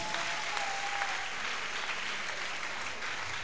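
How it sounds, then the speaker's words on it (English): A congregation at a revival tent meeting claps steadily, a dense, continuous patter of many hands at moderate volume with no pauses. "Hey, can you clap for Jesus?"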